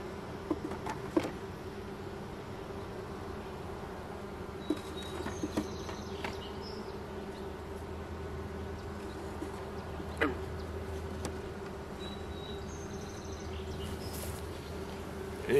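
Honeybees hum around hive boxes in a continuous faint drone, with scattered light knocks and clicks from handling frames.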